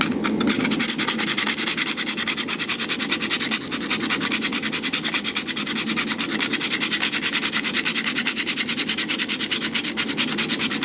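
Steady, rapid rubbing of a sanding pad against a hardened steel blacksmith's round punch, continuous and close, with a gritty rhythmic scrape running throughout.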